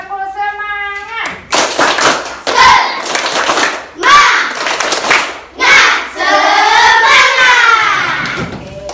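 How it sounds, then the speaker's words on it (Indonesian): A group of women claps a rhythmic spirit clap (tepuk semangat) in an Indonesian classroom session, sharp handclap bursts alternating with sung or chanted voices that lead and accompany the pattern. "sekarang kita untuk melonggarkan otot Ibu, kita tepuk semangat dulu ya"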